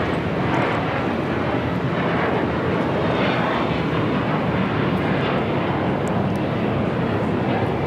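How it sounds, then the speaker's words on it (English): A JetBlue Airbus A321 takes off from LAX, its jet engines producing a loud, broad, continuous roar that stays steady for several seconds with no voices. "This is JetBlue Flight 100 taking off to Fort Lauderdale on the A321."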